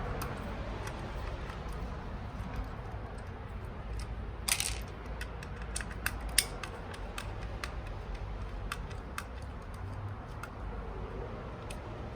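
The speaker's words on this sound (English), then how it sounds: "And remove the one over the blower fan." A screw is backed out over the blower fan of a bubble machine, giving a run of faint, rapid ticking clicks from a screwdriver, with one louder rattle partway through against a quiet hum.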